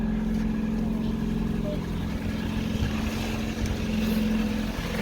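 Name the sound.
Ford Fiesta engine running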